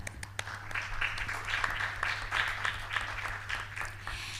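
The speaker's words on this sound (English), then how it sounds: "So let's give a clap." Seminar audience clapping, a steady wash of applause with a few louder individual claps, heard over a constant low electrical hum.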